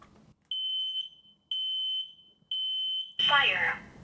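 A combined smoke and carbon monoxide detector under test gives three sharp, evenly spaced high-pitched beep pairs, then a recorded voice warning speaks close by.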